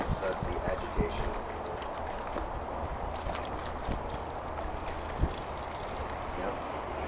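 An air intake filter sloshed and agitated in a tub of soapy water, a continuous low churning wash of liquid with soft splashes and occasional bumps, steady and close.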